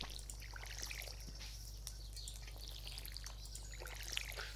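Crops being watered with a watering can in Stardew Valley, a soft, faint trickle and pour of water with light bird chirps behind it.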